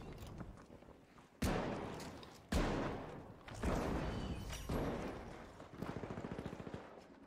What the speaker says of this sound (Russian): Я слышу стрельбу